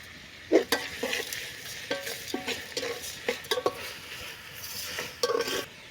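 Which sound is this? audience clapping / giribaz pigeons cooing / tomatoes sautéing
tomatoes sautéing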